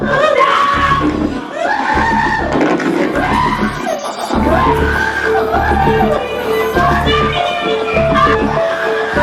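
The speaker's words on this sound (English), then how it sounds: "you can hear one of Jackson's family members scream to the victim's family" A family member screams across a courtroom toward the victim's family during a defendant's outburst at a life-without-parole sentencing, with raised, strained voices and crowd commotion continuing loudly throughout.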